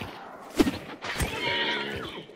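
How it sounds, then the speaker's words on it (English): A horse in the video game Hunt: Showdown lets out one loud, close whinny that rises and then trails off with a quavering, drawn-out neigh. "Oh shit, horse. Let's not set that horse off."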